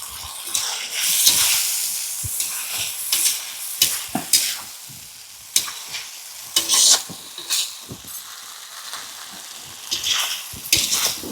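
Potato and pointed gourd sautéing in spiced oil, a close sizzle broken by repeated scraping stirs of a spoon against the pan at an irregular rhythm, with no talking.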